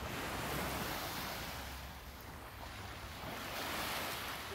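Waves washing steadily against the Lake Tahoe shore at night, a continuous loud surf wash with gusts of wind buffeting the microphone, no voices.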